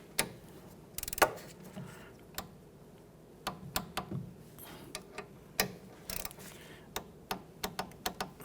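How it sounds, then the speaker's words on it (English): A torque wrench clicks through tightening two caliper-to-bracket bolts on a 2011-2015 Kia Sorento, sparse sharp ticks spaced irregularly at first, then quicker ratcheting clicks, all quiet and close. "Torque down your 2 caliper to bracket bolts to 20 foot-pounds."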